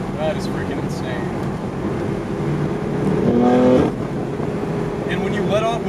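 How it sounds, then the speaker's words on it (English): BMW M4 with catless downpipes and MPE exhaust idles and runs steadily, then a short rising flare swells near the middle as the throttle is released after building boost, loud and close. "when you build boost and you let off the throttle, that flaring like wastegate sound that these cars make"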